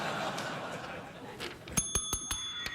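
A small bell dings several times in quick succession, sharp and clear, after a stretch of soft background murmur on a late-night talk show set.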